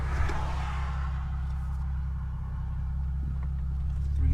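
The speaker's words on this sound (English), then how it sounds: "Third gear 3000 to 7 full throttle." A tuned Infiniti G37 with an ECUTEK reflash runs at full throttle in third gear, its engine giving a loud, close, steady droning roar that holds throughout.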